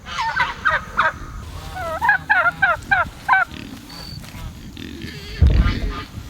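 Turkeys gobble in a rapid series of loud, close warbling calls, several bursts in a row, followed by a pause with a soft thump and faint background noise.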